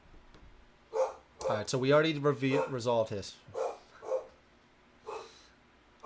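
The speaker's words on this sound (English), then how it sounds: "I apologize about the dog, guys." A dog named Rocco barks and yips close by during a live board game session, with snorting breaths between the barks and someone talking over the noise.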